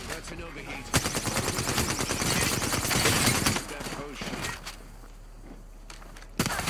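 Bursts of rapid weapon fire crackle through an Apex Legends bot match, dense and loud for several seconds before easing off, with a player talking over the shooting and a final sharp shot near the end.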